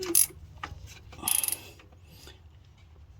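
Ratchet wrench clicking as it tightens the starter motor bolts on a Toyota Sienna, worked through a 3-inch extension and flex head; two short close bursts of rapid ratcheting with a pause between them, no talking.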